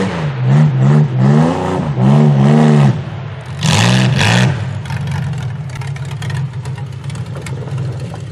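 A vehicle on a muddy hillside revs hard in several loud, rising bursts that surge and drop, then settles into a quieter engine drone, close by and without talk.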